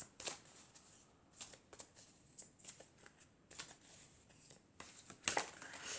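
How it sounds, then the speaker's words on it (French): Tarot cards are shuffled and drawn by hand, soft repeated riffling and flicking bursts up close at low volume, with no talk. "Alors ensuite, on va prendre encore 4 cartes."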